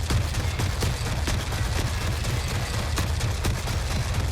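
An auto shotgun firing in a video game against a Euroskin medium mech, a steady run of quick, evenly spaced blasts over a dense rumble of impacts, loud and continuous throughout.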